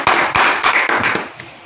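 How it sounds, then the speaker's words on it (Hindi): A small group clapping in a classroom, several sharp distinct claps in quick succession, loud and close, tapering off after a second or so. "तो एक बार इनके लिए भी ताली बजा दीजिए।"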